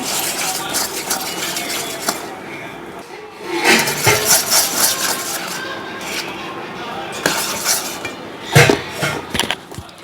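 Powdered sugar being stirred into eggless, butterless cookie batter in a bowl, with scraping, clinking utensil strokes against the bowl and soft thuds, irregular and close, beneath a voice speaking.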